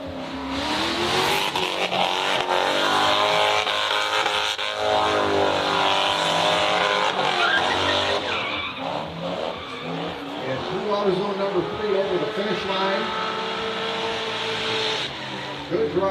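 Drift cars at a Pro-Am drifting event on the plains tear through the outer zone, engines screaming and revving hard with tire squeal, loud and continuous throughout with no pauses.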